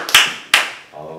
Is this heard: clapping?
yes